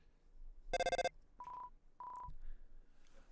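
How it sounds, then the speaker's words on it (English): A phone in the video game Undertale rings and chimes, a fast burst of electronic tone pulses followed by two short beeps, with quiet game sounds between. "It's Sans. He's on our phone"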